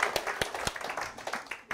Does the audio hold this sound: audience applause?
yes